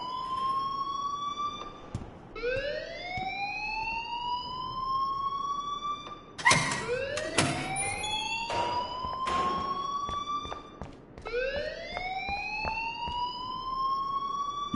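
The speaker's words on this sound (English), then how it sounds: "please turn off that alarm since that's your job" A school alarm wails in Life is Strange, a loud siren-like tone sweeping upward again and again in repeated rising cycles, broken midway by sharp clattering hits and short bursts.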